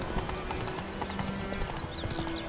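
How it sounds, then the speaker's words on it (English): Horse hooves clip-clopping in The Witcher 3, a steady trotting patter under game ambience with faint bird calls in the background. "Come here, pony. That's it, Roach."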